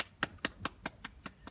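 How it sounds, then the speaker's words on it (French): A small exercise class in an abs, glutes and stretching session clapping for themselves, seven evenly spaced, faint hand claps in a quick steady rhythm. "Applaudissez-vous."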